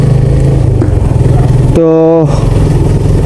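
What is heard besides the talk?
motorcycle engine while riding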